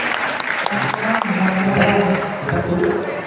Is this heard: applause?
yes